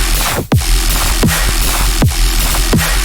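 Electronic club track from a walkthrough, built on a steady, constant sub bass with sharp, punchy hits recurring about every three-quarters of a second on top, loud and dense with no voices.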